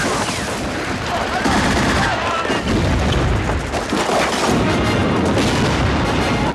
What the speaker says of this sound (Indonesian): Pasukan Uni Soviet terus menembaki prajurit Jerman dengan senjata mesin